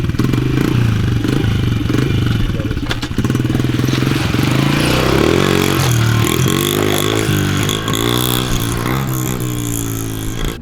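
A pit bike engine runs steadily and loud, the rider pulling away with a clattering mid-pitched drone and rising revs toward the end, no fading evident, no voices.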